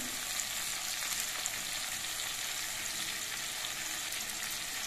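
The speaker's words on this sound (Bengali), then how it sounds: "এবার এগুলো দিয়ে নেড়ে চেড়ে মিশিয়ে নিতে হবে" Turmeric and Kashmiri chilli powder stirred in hot oil in a pan give a continuous, even sizzle and bright frying hiss, close and steady throughout with no talking.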